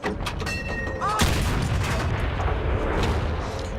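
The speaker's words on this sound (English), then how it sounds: "The IS-3 that I'm shooting at gets caught in a really bad position." Tank cannon fire in a tank battle game, with a loud boom about a second in, followed by rumbling blast noise and scattered distant shots under a continuous battlefield din.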